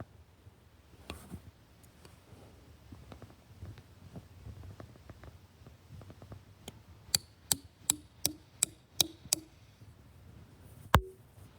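Hammer taps a metal spout into a tree for sap at a winery, with scattered light knocks early on, then a run of seven sharp, evenly spaced close strikes and one final louder blow.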